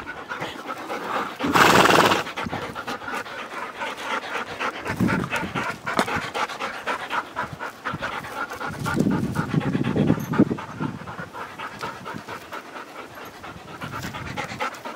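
Puppies pant quickly and rhythmically up close, with a short burst of scuffling noise early on and soft whimpers mixed in.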